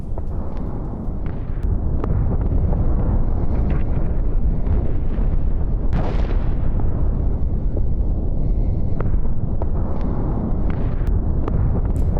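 Distant explosions booming through a constant roar of wind and rumble, with one sharper blast standing out midway, during a night attack on a US military camp.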